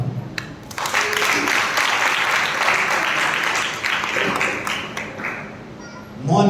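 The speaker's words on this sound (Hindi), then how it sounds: "ताली बजा के बताओ।" A congregation at a Sunday church service breaks into loud, sustained clapping after a short pause, with a few voices rising over the applause before it fades near the end.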